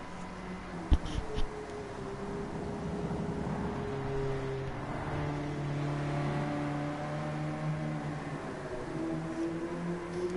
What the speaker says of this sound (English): now we can just listen to the car a little bit